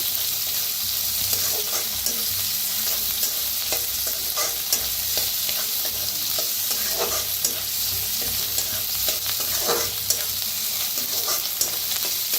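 Chopped onion frying in a hot pan for a Marathi-style karadi leaf vegetable dish, giving a continuous loud sizzle broken by repeated scraping stirs of a spoon against the pan.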